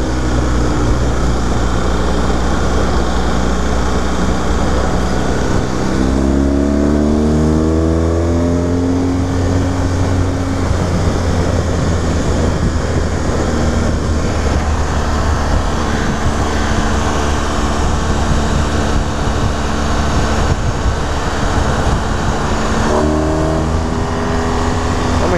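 A BMW 1200 motorcycle engine runs loud and close, with a steady rumble and repeated revs whose pitch climbs through the gears and then settles, without pauses.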